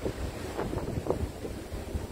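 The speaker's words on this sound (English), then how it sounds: "the wind is very, very strong." Strong wind buffets the microphone on a cruise ship deck in continuous gusty rumbles, with a low roar and splashing water underneath, close and steady.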